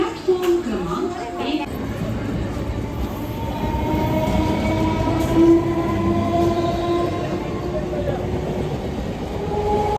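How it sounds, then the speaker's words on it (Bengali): A train at a railway station rumbles steadily with long, drawn-out tonal horn-like drones, while people chatter faintly in the background. "ট্রেন আসতে কিছুক্ষণই দেরি আছে"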